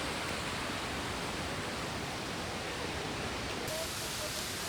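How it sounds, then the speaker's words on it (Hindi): A waterfall on the Everest Base Camp trek roars as a dense, steady wash of rushing water, loud and continuous throughout with no clear voices. "वाटरफॉल।"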